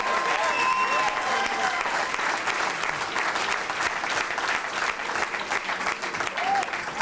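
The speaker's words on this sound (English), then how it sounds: "I want to give them a round of applause for helping and be supportive." Vigorous, sustained crowd applause after a speech thanks family members, many hands clapping densely and loudly for several seconds, with faint voices and a few whoops rising above it.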